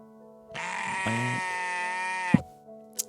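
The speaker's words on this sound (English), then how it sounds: "And there's the sheep." Sheep bleating in one long, loud, wavering cry that holds steady for nearly two seconds, followed by a brief thump and a short sharp click near the end.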